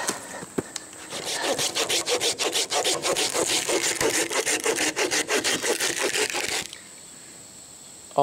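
A hand saw trimming Osage orange tree branches: close, rhythmic back-and-forth rasping strokes in a fast steady series for several seconds, then stopping to quiet outdoor background.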